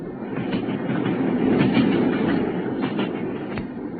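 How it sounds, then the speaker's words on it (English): A train rolls along rails at a steady pace, a continuous rumble with rhythmic clickety-clack from the wheels, fairly close and alone with no talk. "we consumed some hot tea at the station and taken our places in the Kentish train"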